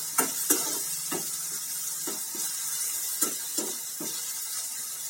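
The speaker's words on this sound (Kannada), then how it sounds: "ಟೊಮೆಟೊ ಹಾಕ್ಕೊಂಡು ಸ್ವಲ್ಪ ಫ್ರೈ ಮಾಡ್ಕೊಳ್ಳೋಣ" Tomatoes frying in a pan with onions for North Karnataka style junaka, a steady soft sizzle with repeated light scraping strokes as the mixture is stirred, with no voices.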